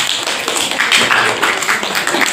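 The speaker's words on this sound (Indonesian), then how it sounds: "Berikan aplaus untuk Novel." A classroom group applauding in a short burst of dense, loud, close clapping that holds steady for a couple of seconds.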